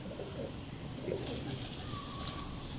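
Pigeons, a fancy breed kept by a pigeon keeper, coo softly in short low bursts against a steady hum of background noise, with no talking.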